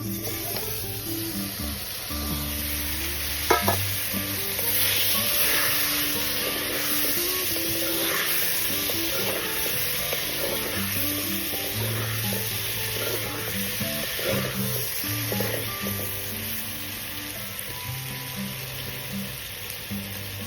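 Oil sizzles steadily in a pan as liver fries with garam masala for a long stretch, a constant close hiss with occasional stirring scrapes and faint background tones.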